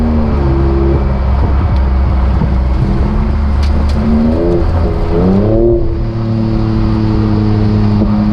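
A Ford F-150 Raptor pickup truck accelerating hard, its engine note rising and falling through gear changes in a steady, loud drone with no talking.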